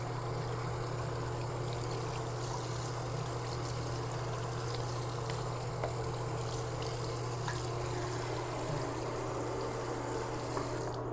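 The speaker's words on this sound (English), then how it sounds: "rinse my brush off. Rinse my teeth." Tap water runs steadily while a toothbrush is rinsed off during a morning denture-care routine: a continuous splashing flow over a low, constant hum, close by and without speech.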